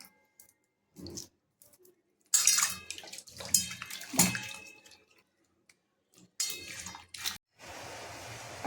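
Roasted dried bombil fish are rinsed in a pot of water, with bursts of splashing and sloshing separated by quiet gaps, light clinks of a vessel, and a final stretch of running water.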